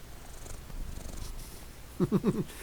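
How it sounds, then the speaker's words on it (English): A cat purrs close to the microphone in a few rhythmic, rumbling pulses near the end, after a stretch of soft low background noise. "You guys hear her purr?"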